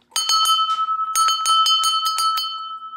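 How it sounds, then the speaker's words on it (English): A bell rings out in a quick run of about ten bright, clear strikes, with a short pause partway through, each tone ringing on and fading at the end. It is heard alone during a children's church message. "That's a bell too. Very different."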